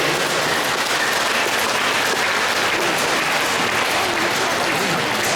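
Sustained, thick applause from a large conference audience in a hall at a Thirukkural conference in Canada, a steady wash of many hands clapping with no pauses or voices.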